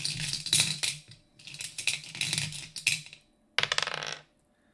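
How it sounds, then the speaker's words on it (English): A batch of dice is shaken in a hand and rolled, giving rattling clatters in several bursts that stop and start, with a final sharp tumble. The sound is close and fairly quiet, and no one speaks. "just taking this batch of dice here."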